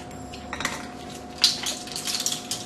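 Teaspoons are pulled apart from a wrapped bundle in a home kitchen, giving a few light metallic clinks and taps, close and fairly quiet, with no talk.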